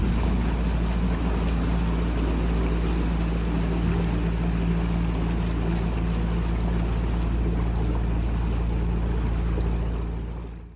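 A narrowboat engine runs hard at high revs, a loud continuous drone with churning water noise, steady throughout before easing off at the end.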